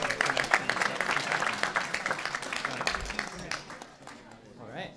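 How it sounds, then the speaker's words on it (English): An audience claps for the judges at a university pitch competition event, a steady dense patter of many hands filling the room, fading toward the end as the applause dies down. "Let's also get a round of applause for our wonderful judges who volunteered their time to be here."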